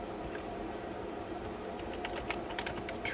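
Keystrokes on a computer keyboard entering commands during a clean OS/2 install on an IBM Aptiva, a loose run of light clicks bunching toward the end over a steady hum of background noise.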